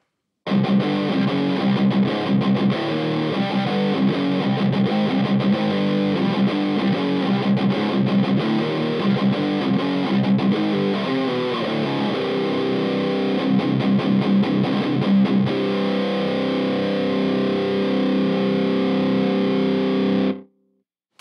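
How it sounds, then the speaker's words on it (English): A heavily distorted electric guitar through a Peavey 6505 MH tube amp with a low-gain kit and overdrive plays chugging chords continuously for about twenty seconds, thick and loud, stopping abruptly at the end. "I'm going to click in my overdrive, tighten up the low end a little"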